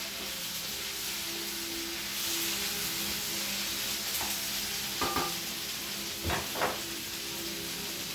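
Beef and snap peas with other vegetables stir-frying in an oiled pan, giving a steady close sizzle under scraping and clacking stirs, with a few sharper knocks near the end.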